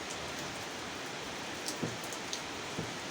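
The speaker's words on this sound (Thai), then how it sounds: "ฝนตกแดดออก บ่เคยพออากาศ ไม่ปกติ" Steady rain hisses evenly during a sun shower, with a few louder drops tapping nearby now and then.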